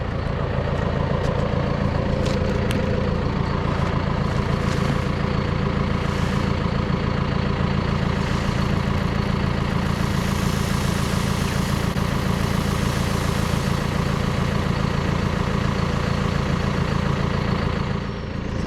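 A tractor engine idles steadily while powering an air seeder off the PTO, a loud, constant low rumble held close for nearly twenty seconds with no talking.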